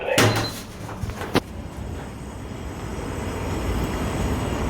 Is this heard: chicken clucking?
no